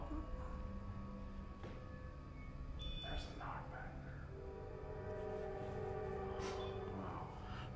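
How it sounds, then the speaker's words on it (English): Faint, far-off train passing outside a house in New England, sustained high-pitched dissonant horn tones drifting over a low rumble, with people talking quietly. "Trains are so creepy. I know. Especially that one. Mm-hmm. It's so high-pitched. It's dissonant tones."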